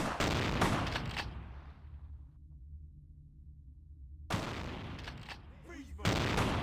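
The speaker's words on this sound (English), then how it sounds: "They're actually shooting me." Bursts of gunfire aimed at the player in a video game crack out in rapid clusters at the start and again near the end, with a quiet stretch in between.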